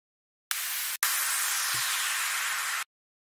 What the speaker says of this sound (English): let's get some white noise here